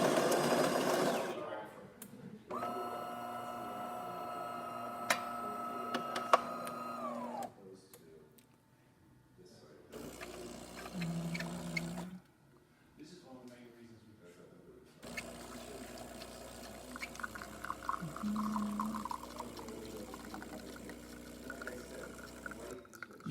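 A DeLonghi espresso machine pump drones and buzzes in several runs as a test shot trickles and pours after a full tune-up, with short quiet pauses between bursts.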